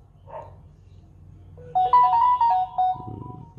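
A Samsung phone sounds its message notification tone: a short, bright melody of several chiming notes that ring out clearly over a quiet, faintly humming room, with no talking.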